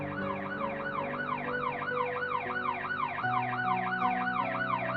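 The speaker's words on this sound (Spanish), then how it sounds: "Oír el gemido de las sirenas de un coche de policía que pasaba calmó ese sentimiento." A passing police car's siren wails in steady, rising-and-falling sweeps, loud and continuous throughout, with faint traffic rumble underneath.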